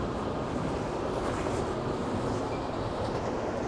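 A loud train rolls past close by in the town of St. Joe, a continuous heavy rumble with a steady rushing roar and no speech over it.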